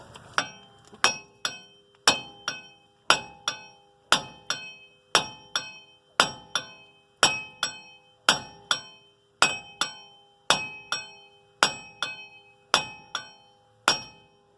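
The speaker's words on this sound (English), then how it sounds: "start hitting on this and see if she wants to move" A hammer strikes a stuck wheel hub on a 2006 Dodge Dakota in a steady series of about twenty loud, ringing metallic blows, roughly one every two thirds of a second, with no talk.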